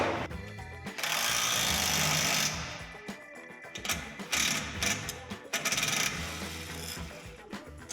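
Hardware being tightened on a trailer hitch ball mount for an overland gear hauler, with busy ratcheting and clicking mechanical bursts that rise and fall close by, no talking.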